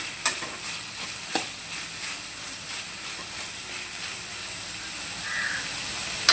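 Tomatoes sautéing in a pan for a ground-masala vegetable dish, a steady soft sizzle and hiss with a couple of sharp utensil taps, close and even, no talking.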